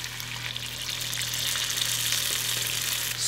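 A smoky sauce mixture being stirred in a pan gives a steady, close hiss of sizzling and simmering over a low constant hum, with no voices.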